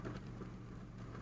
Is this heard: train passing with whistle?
no